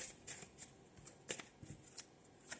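Mudra cards are shuffled in soft, quick bursts of riffling and sliding, faint and close, with short pauses between the shuffles.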